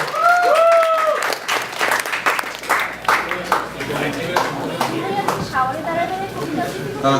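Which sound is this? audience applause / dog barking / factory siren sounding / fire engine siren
audience applause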